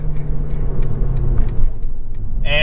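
Engine of a 2010 Mercedes C63 AMG sedan, a steady, loud low rumble close by with quick throttle blips while downshifting, ending in a brief higher-pitched flare.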